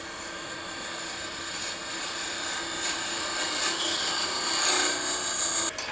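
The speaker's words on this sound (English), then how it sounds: "we'll take a couple of small peeling cuts here just to kind of bring this down a little bit" A wooden finial is turned on a lathe with small peeling cuts, giving a steady, continuous rasping hiss that holds loud and even for several seconds before cutting off abruptly.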